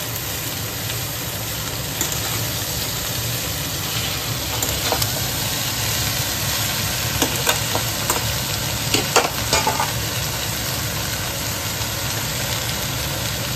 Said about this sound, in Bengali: এটা সেদ্ধ করে নিয়েও করা যেত, আমি একবারে তরকারি করে নিচ্ছি।